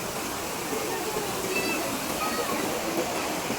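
Steady rushing water fills the background, a broadband wash like a flowing stream, continuous and fairly close, with faint voices mixed in.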